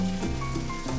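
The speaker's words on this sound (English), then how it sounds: "So whilst those onions are browning" Onions, ginger and garlic frying in a hot pan for a mussels coconut curry, a steady close sizzle that fills the short moment without pause.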